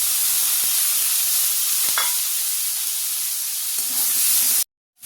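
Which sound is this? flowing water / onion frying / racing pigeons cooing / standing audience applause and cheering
onion frying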